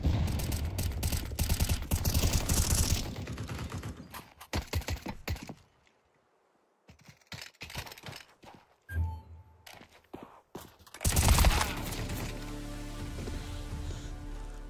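Rapid bursts of automatic gunfire ring out in Counter-Strike 2, dense rattling volleys that break off into a few seconds of near silence, then return with scattered shots and a loud final burst.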